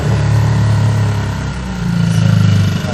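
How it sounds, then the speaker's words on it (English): A boat engine, started with a choke, runs loud and close with a steady low throbbing drone that shifts pitch slightly midway. "How do you stop the engine? Really loud."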